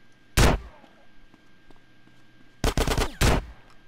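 Gunfire in Grand Theft Auto: San Andreas: one sharp shot, a quiet gap, then a tight cluster of several quick loud reports, with faint low game ambience between.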